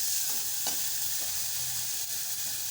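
Green chilli, ginger, garlic, curry leaf and coriander paste is stirred in a hot pan, with a steady close sizzle and a few soft scrapes of the spoon.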